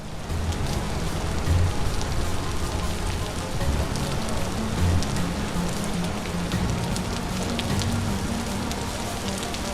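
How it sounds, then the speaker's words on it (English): Steady rain patters on surfaces in the video game Vintage Story, a dense, even hiss of drops lasting the whole stretch at moderate loudness, with no voices. "I swear I've had nothing but rain."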